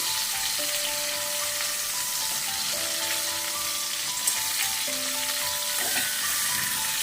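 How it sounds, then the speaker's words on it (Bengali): Prawns frying lightly in a pan, a steady close sizzle and crackle running throughout with occasional faint clinks, no talking. "এবার আমি মাছগুলিকে হালকা করে ভেজে নেব।"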